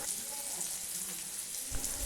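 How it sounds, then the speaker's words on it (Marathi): Bangda mackerel sizzles on a hot pan over a wood-fired stove, a steady crackling hiss close by, briefly swelling near the end. "मासा तव्यावर सोडताच लगेच चरकन आवाज येते"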